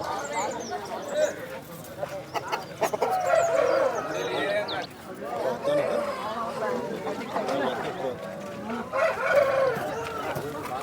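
Roosters crow repeatedly at a busy poultry market selling fighting cocks, several long crows rising over continuous crowd chatter and clucking, with someone talking close by.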